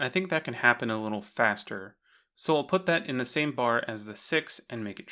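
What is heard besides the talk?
None of the usual background noises is heard.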